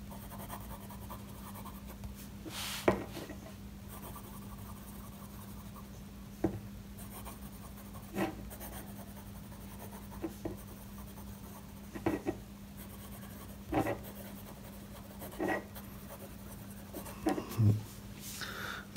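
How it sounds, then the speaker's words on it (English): Pilot Black ink in a Beena Lincoln fountain pen scratching across paper, soft strokes with short bursts and brief pauses, quiet and close over a steady low hum. "So let's write something."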